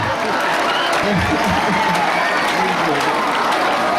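Steady applause and light cheering fill a high school hall during a health talk, a dense continuous wash of clapping from a large student audience lasting throughout.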